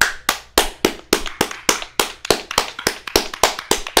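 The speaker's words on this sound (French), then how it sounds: "J'entends des applaudissements" Sharp, separate hand claps, about a dozen evenly spaced across four seconds, loud and close with quick decays, more like one person's rhythmic clapping than a crowd's applause.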